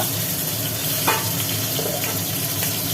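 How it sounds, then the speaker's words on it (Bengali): Hilsa fish pieces, rubbed with salt and turmeric, frying in hot oil in a home kitchen: a steady close hissing sizzle throughout with a brief spatter burst midway. "ইলিশ মাছগুলোকে একটা একটা করে ভেজে নেওয়া হবে"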